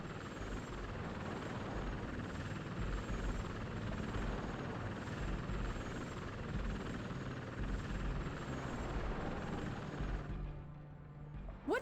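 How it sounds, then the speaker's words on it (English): A helicopter in the video game Robot Alchemic Drive flies overhead, its loud, steady rotor chop and engine roar filling the scene continuously before abruptly dropping away near the end. "What's that helicopter trying to do?"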